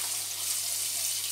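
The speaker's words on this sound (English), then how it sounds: "Just a little rinsing." Tap water runs steadily over fish being rinsed in a kitchen sink, a soft continuous hiss with no talking, brief and even throughout.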